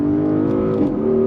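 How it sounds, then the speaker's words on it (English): A 2024 Porsche Cayenne S with sport exhaust accelerating hard, its engine note loud and close, a steady throaty roar that briefly dips and rises again as the 8-speed automatic snaps through a shift. "Nice quick shifts from the 8-speed automatic. And of course the sound. I mean, that's worth the price of admission. With that sport exhaust, it is stupendous."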